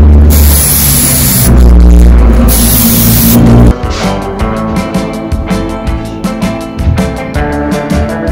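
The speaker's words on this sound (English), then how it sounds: "I'll use spray paint to add some extra flair to the background." A loud, continuous spray-can hiss lasts a few seconds, then cuts off. Pulsing, rhythmic tones follow.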